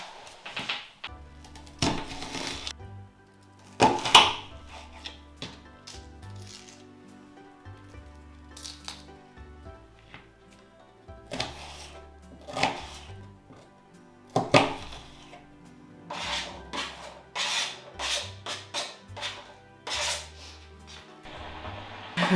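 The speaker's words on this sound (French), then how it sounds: "l'échalote doit être coupée" A knife chops shallot on a board in irregular bursts of sharp, close taps separated by quiet pauses, fairly soft overall with no speech.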